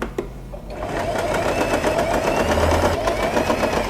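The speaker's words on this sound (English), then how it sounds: "Just take the fabrics together and continue sewing." A sewing machine runs steadily as two fabrics are stitched together for a scrunchie, its rapid even needle chatter continuing close and loud with a brief change in tone near the end.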